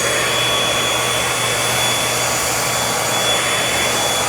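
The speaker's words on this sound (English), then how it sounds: "let's see how the Bissell Featherweight's going to do on carpet" A Bissell Featherweight stick vacuum cleaner runs on carpet with a loud, constant high-pitched whine and airy rush, close by and uninterrupted.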